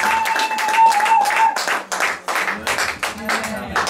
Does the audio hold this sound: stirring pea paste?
no